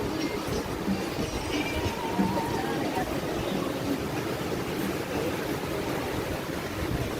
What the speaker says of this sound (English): the waves are going to get bigger